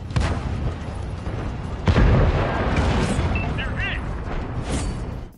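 Tank cannon shots and explosions from the online battle game World of Tanks boom in short, heavy bursts, with a big blast near the middle, beneath continuous narration.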